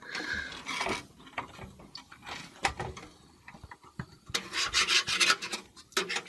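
Rasping, scraping strokes come from work on a PC, an irregular series of close scrapes and rubs with brief clicks in between, mostly without speech.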